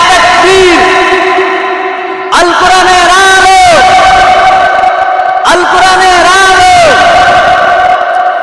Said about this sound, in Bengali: সে যুবকেরা স্লোগান দেবেন নারায় তাকবীর নারায়